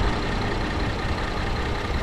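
The engine of a 2018 Ford Taurus SHO AWD with the EcoBoost runs as a steady, smooth hum with a broad low rumble, close by, and no voices over it.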